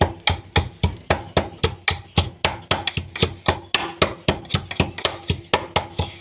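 Garlic is pounded for koshari dagga in fast, regular thuds, about three per second, close and crisp, continuing steadily with no talking.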